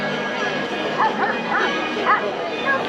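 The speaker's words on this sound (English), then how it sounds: "You can hear them barking." Dog barking and yipping sounds from the Lady and the Tramp 50th anniversary statue, a series of short bright yips and whimpers over steady crowd ambience.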